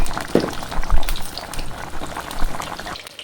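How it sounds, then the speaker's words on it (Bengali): Egg chops sizzle in hot oil with a steady, close bubbling and crackling hiss, broken by a few louder pops and spatters. "ডিমের চপ ভাজা রেডি।"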